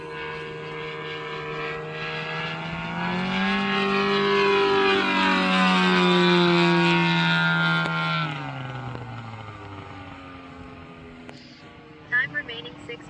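Large RC Robart P-47 model airplane with a DLE-222 gas engine drones past, its harmonic whine rising and swelling as it nears, then fading away, with people talking nearby.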